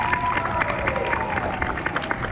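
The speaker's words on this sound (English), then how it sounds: "Let's give them a round of applause." Applause and crowd noise for visiting elementary schoolchildren at an outdoor historic fort park in Sacramento, a busy mix of clapping and murmuring voices recorded nearby, with some talk mixed in.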